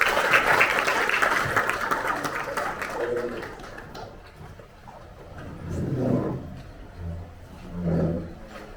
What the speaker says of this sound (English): maybe give a round of applause to him